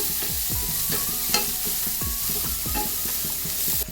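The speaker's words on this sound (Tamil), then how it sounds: "இப்போ எல்லாத்தையுமே நல்லா ஒரு கிளறி கிளறி விட்டுருவோம்" Finely chopped red capsicum is stir-fried for chicken fried rice, with a constant loud sizzle under repeated rhythmic spatula scrapes and knocks against the pan, close up.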